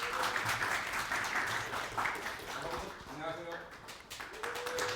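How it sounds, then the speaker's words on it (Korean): An audience at a design seminar gives a sustained round of applause, many hands clapping steadily at moderate loudness, while a voice speaks over the clapping toward the end. "뜨거운 박수 부탁드리겠습니다."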